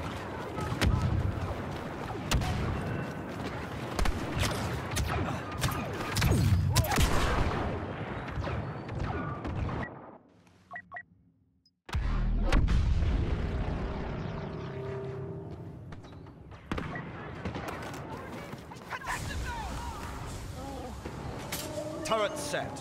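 Turret fire and explosions in Star Wars Battlefront II on Tatooine, heavy booming bursts that continue for about ten seconds, drop away briefly, then resume with rumbling blasts under battlefield voices.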